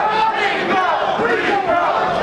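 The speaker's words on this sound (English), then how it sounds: "You can hear the crowd getting behind Rico Tatangelo, the local gentleman here" Dense, steady crowd noise from a kickboxing match, spectators cheering and shouting to urge on the local fighter, loud and continuous throughout with no pauses.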